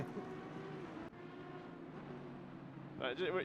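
Engine of a GT3 racing car on the main straight at the Nürburgring in a sim racing game, a steady droning note with a higher rising whine near the end, heard under background talk.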